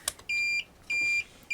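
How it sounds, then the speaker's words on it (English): An ultrasonic distance measuring kit with an alarm gives three steady electronic beeps, each lasting about a third of a second and evenly spaced. They are clear and close, with no talking over them. "You can hear it's beeping"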